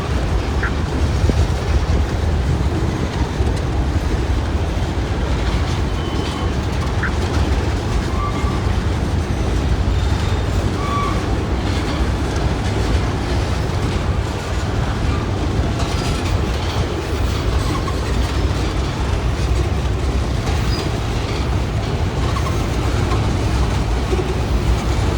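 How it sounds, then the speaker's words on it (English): A freight train rolls past close by for a long stretch, its wheels clattering in a steady rhythmic clickety-clack over the rails beneath a continuous heavy rumble, with faint squeals now and then. "This train could have came down from Cincinnati or"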